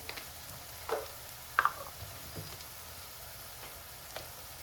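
Chili powder goes into a dal tadka in the pan, bringing a quiet, steady sizzle with a few soft clinks and taps of a spoon scattered through it, faint and close.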